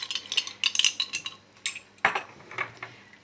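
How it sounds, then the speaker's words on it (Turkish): A spoon stirs salt into lemon juice in a bowl for a Turkish shepherd's salad, giving a dozen or so close, irregular clinks and scrapes against the dish, with no talking. "Şuradan şöyle bir karıştıralım. İyice karışsın limon suyumuzla tuzumuz."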